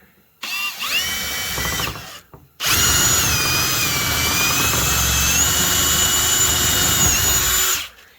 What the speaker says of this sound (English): I found a 5/16 inch bit, and I'm gonna start a hole right on the edge of the line here